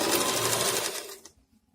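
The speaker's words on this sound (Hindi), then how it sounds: "हम नीचे तक सिंगल सिलाई लगा देंगे" Sewing machine running a single straight seam down a trouser leg, a loud rapid whirring stitch close up for just over a second before cutting off into quiet.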